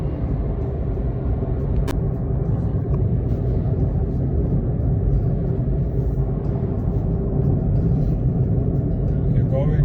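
A VW e-UP electric car driving along in Norway, with a steady low road rumble and cabin noise for the whole stretch and a brief sharp tick near the start.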